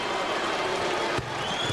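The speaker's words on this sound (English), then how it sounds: "you hear the reaction from the crowd" Basketball crowd at Madison Square Garden during a 1990 Bulls vs Knicks game, a steady broad roar of arena noise that swells and shifts briefly near the end.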